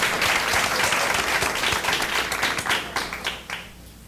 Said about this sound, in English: Can we get a quick round of applause for TV2?